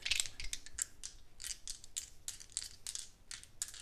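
Dice are rolled and shaken during a tarot reading, giving a quick, close run of small clattering clicks and rattles at a fairly low level.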